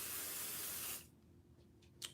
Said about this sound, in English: we're going to spray him with some pixie spray